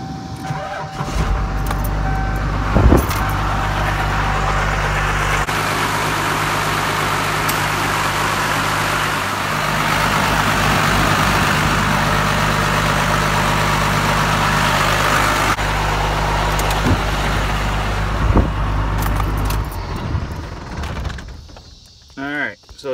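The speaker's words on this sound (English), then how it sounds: "We're gonna start the truck again." A crew cab truck with a Cummins diesel engine starts and runs, a steady low idling rumble that holds for most of the stretch before cutting off, with insects chirping faintly and brief voices in the background.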